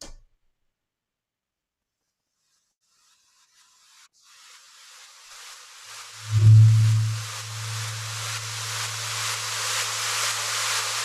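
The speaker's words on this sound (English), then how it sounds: "So basically, it's just like a white noise. It's a simple white noise." A white noise riser synth effect built in Serum, a hiss that swells in from silence and steadily grows brighter and louder, joined midway by a sustained low sine-like tone.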